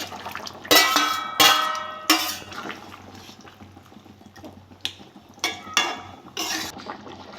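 Pangas fish pieces dropped into a pot of simmering water with potatoes, several loud splashing plops and clatters in quick bursts over a low bubbling background, close by.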